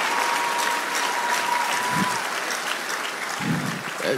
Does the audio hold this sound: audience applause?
yes